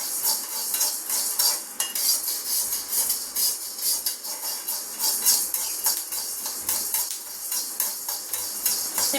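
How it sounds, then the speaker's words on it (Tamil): Ingredients for sathu maavu roast in a pan, popping and crackling in a dense, irregular patter of sharp ticks and snaps with continuous sizzling, close and fairly loud throughout. "பாருங்கள், நல்லா பொரியுது பாருங்கள்."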